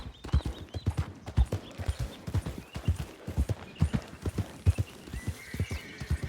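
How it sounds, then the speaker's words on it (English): Horses in Red Dead Redemption 2 clop steadily on hooves with a sharp, regular rhythm, close and fairly loud, with a neigh rising briefly near the end. "This must be their horses."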